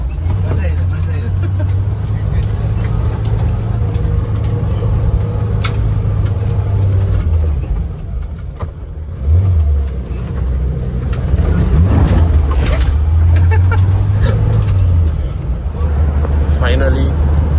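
A Gypsy off-road vehicle drives a rough track toward Ermayi Falls, its engine droning loudly throughout with rising and falling revs and bumps, while people talk over it.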